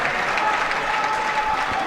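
Crowd at a cadet world judo championship cheering and applauding during a long golden score bout, a dense, steady roar of clapping and voices filling the hall without pause.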